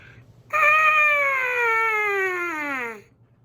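A trumpet plays one loud, sustained tone that glides smoothly downward from a high pitch to a low one over about two and a half seconds, then stops, heard alone.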